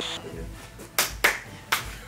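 Three sharp, isolated hand claps ring out close and loud at uneven intervals after a quiet, low-humming stretch.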